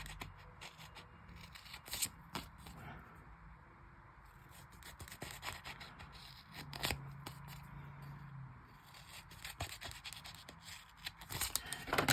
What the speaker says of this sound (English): So you start from the corner and you cut towards the middle, towards the center